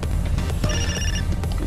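A phone rings in the GTA San Andreas video game, a steady electronic ring layered over dense, loud game sound for under two seconds.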